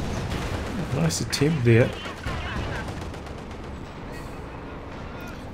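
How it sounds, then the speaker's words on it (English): Walking Stuka rocket counter barrage in Company of Heroes 2, a burst of rapid thudding rocket launches and impacts with battlefield rumble, under a commentator's voice. "he goes to the walking Stuka counter barrage"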